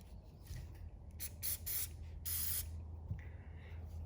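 G96 lubricant sprayed onto a rifle bolt: several short, close hissing bursts of aerosol in quick succession, with a faint background hum.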